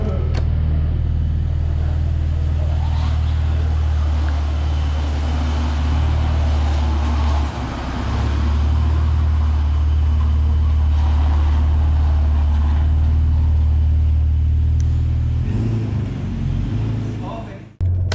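A 2000 BMW E39 528i wagon driving along with a steady low engine drone and road rumble throughout, the sound swelling slightly as it accelerates, with a brief dip and a sharp cutoff at the end.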